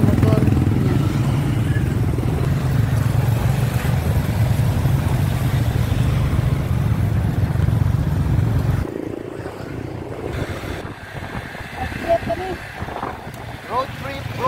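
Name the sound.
motorcycle ride on road trip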